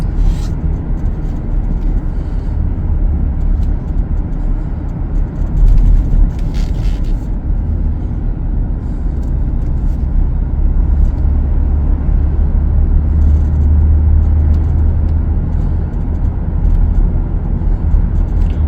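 Steady low rumble inside the cabin of a 2019 Ford F-150 XL regular cab pickup on the road, engine and tire noise droning evenly with faint rattles now and then.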